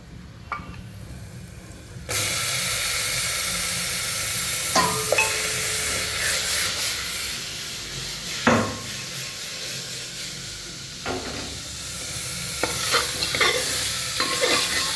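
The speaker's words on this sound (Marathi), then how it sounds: "मटण छान असं भाजून घ्यायचं, परतून घ्यायचं सगळीकडून" Turmeric- and salt-rubbed mutton fries loudly in a pan for kala mutton, a steady sizzle broken by repeated scraping stirs of a spoon against the metal.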